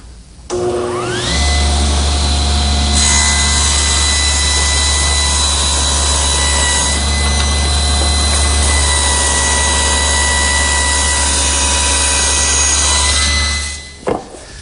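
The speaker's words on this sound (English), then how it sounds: "place it against the rip fence and make a pass through the saw" A table saw rips a wooden board run against the rip fence: the motor spins up, then a steady loud whine and cutting roar holds for about twelve seconds before winding down, with no talking.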